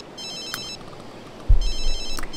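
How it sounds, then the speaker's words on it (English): A phone rings in The Sims 3 Island Paradise with two short bursts of a bright electronic ringtone, separated by a pause. A soft low thump and a quiet game backdrop sit underneath. "Whose phone's ringing?"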